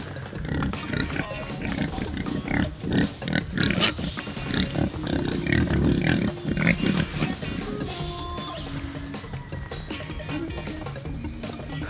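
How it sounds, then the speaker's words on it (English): Forest pigs at feeding time on a farm, a dense chorus of grunts and squeals close by, continuous and busy throughout with outdoor background noise. "feeding the forest pigs"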